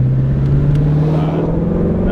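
A Ford Mustang GT350 with its factory exhaust accelerates in sport mode, a loud, close, continuous engine drone with a slowly rising low tone, sustained and unbroken.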